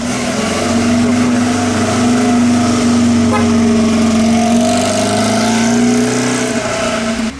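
A classic car at the Concorso Villa d'Este concours drives past close by, its engine humming loud and steady with a clear tone that rises slightly and then fades as the car moves on.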